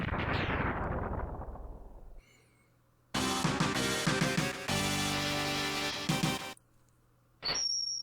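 Several heavy synthetic boss explosion blasts from Mega Man X3, each loud burst with crackling tails, separated by brief quiet gaps and ending in a short final boom.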